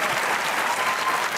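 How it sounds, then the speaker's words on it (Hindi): Full, steady studio-audience applause for a guest named Mateera on a Pakistani talk show, dense and even throughout, with no voices over it. "ताली होनी चाहिए मतीरा के लिए"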